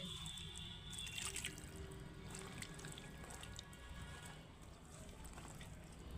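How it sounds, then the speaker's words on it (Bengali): Water is poured into a cooking pot while breakfast of rice, ridge gourd dal and omelette is being made, giving a faint continuous trickle and dripping against a quiet room hiss, heard alone with no talking. "এবারে জল দিয়ে দেবো আর একটু জল লাগবে"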